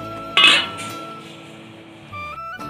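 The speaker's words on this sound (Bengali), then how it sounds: "একটু ঢাকনা দিয়ে ঢেকে দেবো" A metal lid set onto a cooking pot of boiling water for bottle gourd fritters, one bright clanking ring that lingers and fades, followed by a softer clink near the end.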